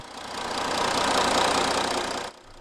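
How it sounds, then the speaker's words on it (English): A 2015 Audi A5 Coupe with a 3.0-litre V6 TDI quattro turbo diesel idles with a steady, close, clattering hum, then cuts off abruptly near the end. "Under the bonnet of this A5 Coupe is a 3-litre, dual overhead cams, 24 valves, turbo diesel V6 engine with common rail direct injection"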